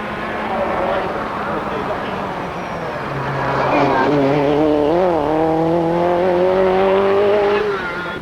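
A Lancia rally car at the 1986 Rallye du Var, recorded inside the car, its engine droning loudly and then rising in pitch through the gears, with a voice speaking over it.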